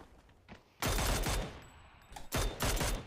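Mini 14 rifle fire in the battle royale game PUBG: two loud, close bursts of gunshots with echoing tails, the first longer and the second after a brief lull, with no talk over them.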